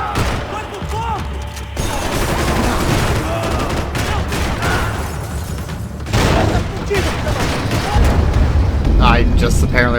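Gunfire in Max Payne 3, repeated shots and bursts with booming impacts in a chaotic firefight, loud and close, with shouted voices mixed in.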